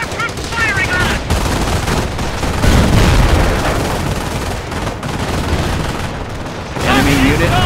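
Dense machine-gun and rifle fire from the strategy game Company of Heroes during the Carentan counterattack in Normandy, loud and continuous with heavy booms mixed in, while voices call out over the battle.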